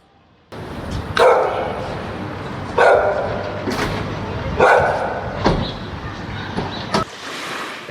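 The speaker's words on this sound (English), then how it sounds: "There's a dog chained up." A chained dog outdoors barks in several loud, separate bursts spaced a second or two apart, with a low ambient hum underneath.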